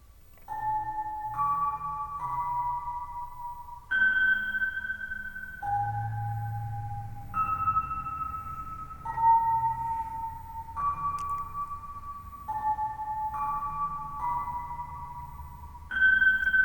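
A soft synthesized melody of sustained electronic tones steps through a repeating pattern of notes, with a faint low bass underneath.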